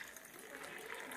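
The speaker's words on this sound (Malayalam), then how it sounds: "എന്നിട്ട് ഇതിലേക്ക് ആ ജ്യൂസ് ഒഴിക്കുക" Hibiscus squash juice is poured into a glass holding a few ice cubes, giving a brief, soft, steady liquid stream heard faintly up close.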